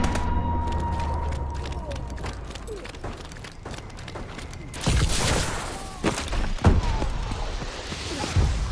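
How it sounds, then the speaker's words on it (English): Missile strikes and explosions in the video game Advanced Warfare: dense, chaotic combat noise with sharp impacts and bursts, loudest after the midpoint, over a busy background of gunfire and effects. "Enemy missile strikes."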